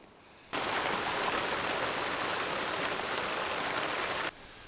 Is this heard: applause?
no